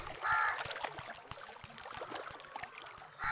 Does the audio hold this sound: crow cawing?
yes